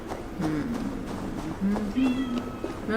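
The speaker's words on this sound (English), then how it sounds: "there's a cat." A cat meows several times in Assassin's Creed Valhalla, short rising calls among game ambience and footsteps, with someone talking over it.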